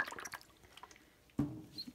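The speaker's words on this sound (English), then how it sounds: "So I'm just adding a little more water." Water poured into white acrylic paint mixed one-to-one with Floetrol, heard as faint, close trickles and small drips, ending in a brief, slightly stronger splash toward the end.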